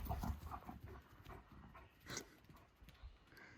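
A dog at a Blue Ridge Mountain home making faint, scrambling sounds with quick padding steps and short panting bursts, quiet and near, with no one talking.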